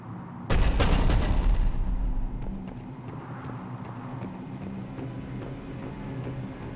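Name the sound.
cannon fire in video game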